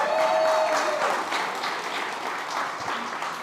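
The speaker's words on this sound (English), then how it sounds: "Please give him a round of applause." A conference audience gives warm applause as a guest returns to the stage, a dense wash of clapping that stays steady and fairly close for a few seconds before easing slightly.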